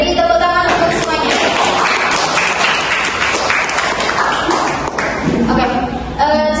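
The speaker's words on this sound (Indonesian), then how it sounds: "beri tepuk tangan untuk semuanya" A classroom group of students breaks into loud, sustained applause after group discussion presentations, dense clapping filling the room throughout with voices mixed in.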